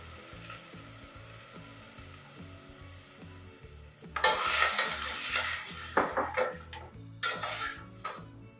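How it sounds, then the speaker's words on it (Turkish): Water being poured into a pot of sautéed pumpkin and beans on the stove, starting as a loud rush of splashing and sizzling midway, with clinking and stirring of the pot around it. "Önce suyumu ekliyorum."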